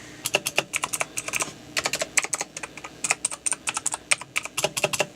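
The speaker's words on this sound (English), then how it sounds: "I'll just touch a few keys so you can hear it." Crisp clicky keystrokes on a 2014 Razer BlackWidow Ultimate mechanical keyboard come in rapid irregular bursts with brief pauses, close up and distinct, with no voice.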